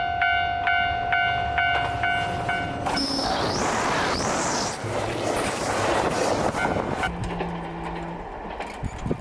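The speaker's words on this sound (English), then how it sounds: "Leaning heavily into the bend with the distinctive, powerful tilt of a tilting train" A JR Dosan Line tilting limited express train passes nearby in Kagawa Prefecture, Japan, with a loud, steady rumble and rushing noise, preceded by a high electronic chime and followed by a squealing tone.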